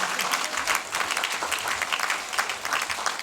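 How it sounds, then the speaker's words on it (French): An audience at a town mayor's New Year greetings ceremony in Roquefort-La Bédoule applauds the teachers, a dense, steady wash of many hands clapping throughout, with no voices over it. "Eux aussi, vous pouvez les applaudir parce que c'est pas simple."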